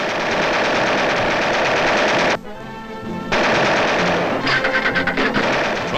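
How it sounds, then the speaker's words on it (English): Aerial machine guns fire from the turret of a model bomber during gunnery training, loud continuous bursts with a short pause, then rapid rattling fire resumes. "sharpshooters learn to use aerial machine guns, training their fire upon small discs hurled by a machine into the air"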